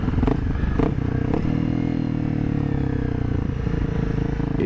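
Honda CRF250L motorcycle riding on new Tusk D-Sport tires, with a steady, loud engine drone and rumble and some rattling, close and continuous throughout.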